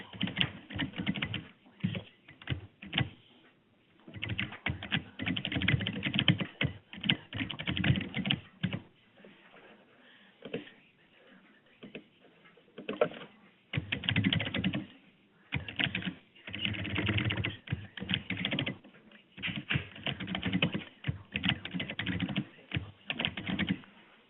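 A new password typed on a computer keyboard in an office setting, a steady run of close key clicks in uneven bursts with brief gaps, no voices.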